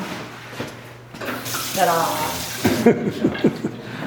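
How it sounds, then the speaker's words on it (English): Water runs from a tap into a hand washing station sink in a building under renovation, a steady close hiss and splash with people talking and a brief chuckle over it. "This is the hand washing station."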